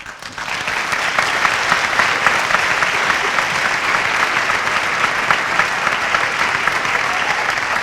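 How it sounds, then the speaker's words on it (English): Audience applause at a monologues performance presented by a women's center, building quickly into a dense, steady wash of clapping that continues evenly throughout with no talk over it. "Let's give them a round of applause."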